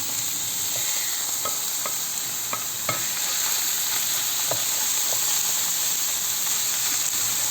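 Chicken livers fry in a pan without oil, a constant close sizzle broken by sharp clicks and taps from a utensil stirring the pieces.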